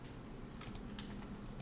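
A few light clicks from a computer keyboard, including a press of the Tab key, come close and quiet over a faint steady room hum.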